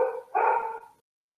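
A pet dog, a female, gives two quick barks, close and fairly loud, with the second bark longer, followed by silence indoors at home.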